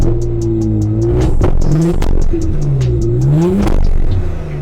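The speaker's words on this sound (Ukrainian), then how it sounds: "Авто заводиться, гучний вихлоп дуже. Басистий." A BMW engine revs loudly through a deep, bassy exhaust, pitch rising and falling in repeated throttle blips with rattling pops, heard up close in an auction lot.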